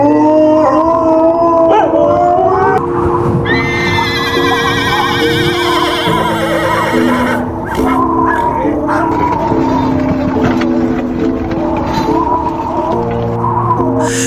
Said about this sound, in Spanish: Los perros aullaban, los caballos se agitaban en sus establos